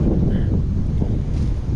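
Steady low wind buffeting across the whole stretch, a dense rumble with gusty swells and no clear voices.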